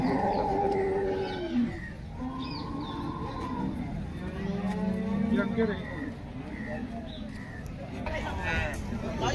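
At the Loni cattle market in Maharashtra, dairy cows give drawn-out, moaning moos that rise and fall over a busy crowd hum, with people talking close by.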